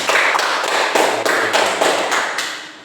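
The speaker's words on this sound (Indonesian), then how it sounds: "Jangan lemas, tepuk tangan untuk kita semua." A classroom group claps together in a steady rhythm, about eight or nine sharp, loud beats evenly spaced that fade slightly toward the end.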